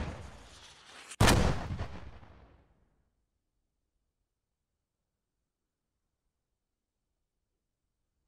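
One heavy artillery blast in the military shooter Squad booms loudly and then rumbles away into silence, with a faint thump at the very end.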